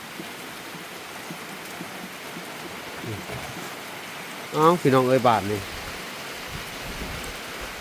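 Steady rain falls outdoors during work in the rain, a soft continuous hiss running throughout, briefly overlaid by a person speaking near the middle.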